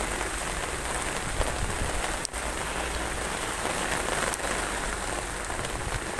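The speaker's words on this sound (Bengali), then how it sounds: "এই বৃষ্টি" Steady rain falling on a surface, a dense, even patter of drops with a few sharper taps standing out, constant and fairly close throughout with no one speaking.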